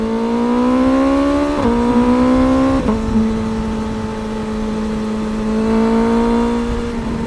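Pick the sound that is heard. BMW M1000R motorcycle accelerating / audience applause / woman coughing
BMW M1000R motorcycle accelerating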